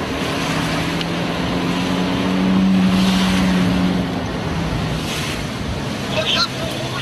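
A police commissioner's car pushes through traffic during a chase, carrying a constant broadband road rumble with a brief steady tone near the middle, and faint voices may be present.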